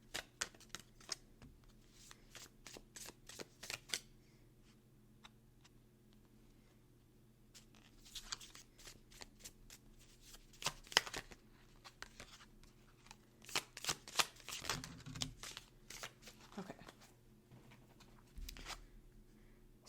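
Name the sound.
tarot cards being shuffled and drawn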